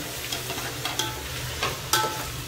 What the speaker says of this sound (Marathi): आता मी ह्याच्यामध्ये आपले टॅमॅटो टाकून घेते.